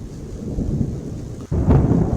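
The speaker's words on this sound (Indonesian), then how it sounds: "Suara guntur masih berbunyi." Thunder rumbles over steady rain at night, a continuous loud roar with a brief dip before a fresh, heavier surge of rolling thunder.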